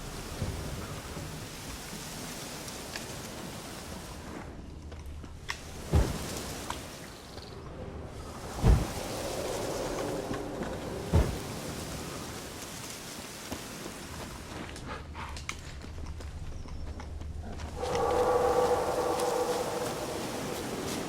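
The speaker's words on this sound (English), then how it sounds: "Looks like rain." Steady rainfall in The Witcher 3, in the Velen region, with several sharp thunder cracks and rumbles spread through, some close and loud, the downpour swelling near the end.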